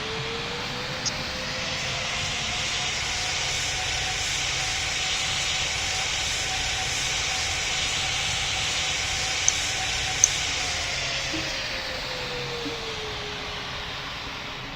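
An aircraft comes in to land in the Roblox game Pilot Training Flight Simulator, a steady loud engine roar with a hissing jet whine and a slowly shifting engine tone, alone without talk.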